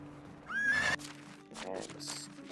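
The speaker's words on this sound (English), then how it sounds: "Horsey, come here, mate, we're busy." A horse in the medieval farming game Medieval Dynasty gives a loud, close whinny with a rising, quavering pitch, then snorts and softer neighs follow, with light hoof clops mixed in.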